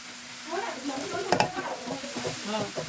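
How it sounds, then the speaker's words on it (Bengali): Boiled pasta is stirred with a spice mix in a hot pan, a soft sizzle under repeated scraping and clattering of a spoon, close by and without talk. "তারপর দিয়ে দিলাম সেদ্ধ করা পাস্তা।"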